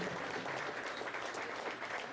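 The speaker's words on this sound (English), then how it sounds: "Let's give all these young people a round of applause." Steady, dense applause from an audience at a bowling scholarship tournament, continuous and fairly full throughout without pauses.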